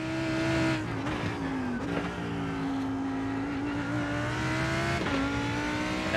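Engines of LMP and GTE race cars in an IMSA racing video game at Road Atlanta, a loud steady high-revving drone with pitch shifts as cars pass, with brief tire noise.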